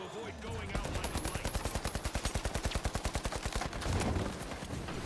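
A long, rapid automatic burst of gunfire in the video game The Finals, dozens of evenly spaced loud shots in a steady rhythm, followed by a louder crash at the end.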